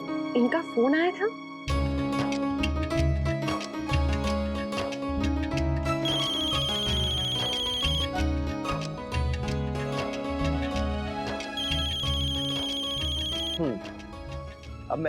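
A phone ringtone plays in repeated melodic bursts, fairly loud and close, with a voice speaking at the start.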